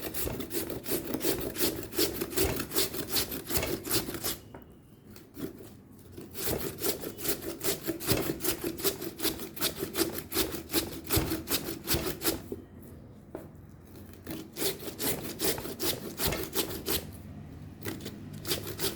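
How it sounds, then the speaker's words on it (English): Potatoes rubbed against a grater for hash browns, a steady rapid rasping scrape repeated through the whole stretch with a few brief pauses, close and fairly loud, no voices. "So we will grate this."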